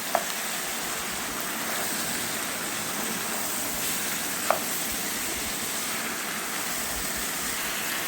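Chicken sautéing in a pan with chilli powder, turmeric, coriander powder, garam masala and black pepper gives a steady, close hiss of frying with one or two faint utensil clicks and no talk.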